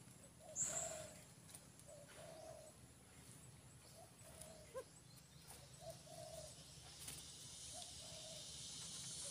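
Birds call faintly again and again in a quiet outdoor setting, short repeated chirps and coo-like notes spaced a second or two apart under a soft background hiss.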